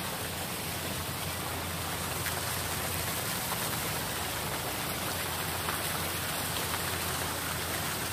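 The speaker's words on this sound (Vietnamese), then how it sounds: "do thời tiết này mưa" Rain falls steadily across an empty plaza at the Vinpearl Land amusement park in Nha Trang, making a constant, even hiss with no voices.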